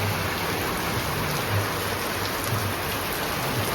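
Heavy rain pours down in a dense, steady hiss that stays loud and unbroken throughout, with no talking.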